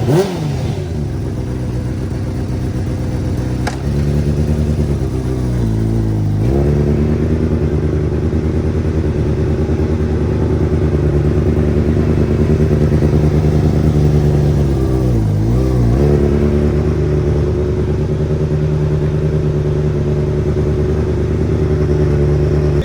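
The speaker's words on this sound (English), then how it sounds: "We are driving the bike for the first time." A wrecked Honda CBR600RR sportbike is ridden in first gear, its loud close engine droning steadily with a few revs rising and falling and no talk over it.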